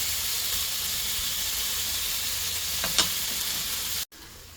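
Shaved steak with sliced onions and peppers fries in a pan, giving off a steady, close sizzle and hiss with a faint clink near the end before it cuts out.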